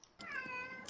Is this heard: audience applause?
no